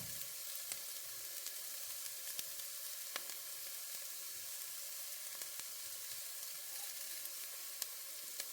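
Garlic for Sunday meat sauce sizzles in a pan as an even, quiet frying hiss with a few faint ticks and pops, no voices.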